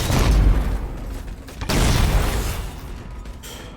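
Grenade explosions in the Halo video game, heavy booming blasts that roll into one another across a few seconds, loud and close with no talk.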